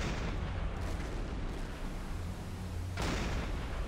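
A submarine deck gun fires at a ship in the Silent Hunter 5 naval warfare game: a steady, heavy low rumble continues throughout, broken by one sharp, loud blast about three seconds in. No one speaks.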